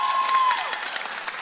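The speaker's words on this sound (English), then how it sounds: "Give a round of applause for yourselves." Audience applause at a youth Bible study session, a short burst of clapping from the group under a brief tone, fading after about half a second.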